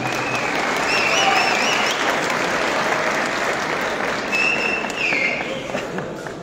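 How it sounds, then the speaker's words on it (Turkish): Audience applause at a large youth gathering event in İnegöl, a dense sustained wash of clapping from a big crowd, loud and continuous throughout with faint whistles. "alkışlarla uğurluyoruz"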